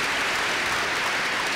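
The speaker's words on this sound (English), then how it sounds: "Give him another round of applause, will you?" A crowd at a spring 2014 graduate commencement ceremony claps in a dense, steady burst of applause filling a large hall, heard on its own without speech.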